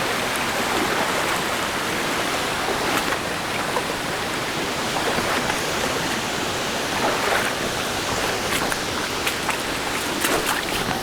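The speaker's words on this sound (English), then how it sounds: "there are a couple of shallow streams running into the river" Shallow streams run into a river along the woodland path to Tower Woods waterfall, giving a steady, broadband rush of flowing water that stays close and even throughout, with no talking.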